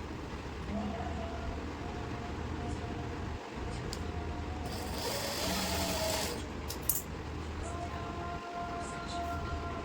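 A sewing machine stitches bell-bottom pants in a continuous rapid whirr, with a faster burst midway and a couple of brief thumps, close and steady throughout.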